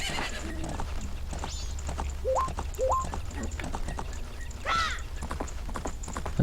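A horse in the video game Zelda: Majora's Mask gallops with quick, rhythmic clip-clop hoofbeats over a steady game backdrop, with short rising chirps and a whinny-like cry, and no voices.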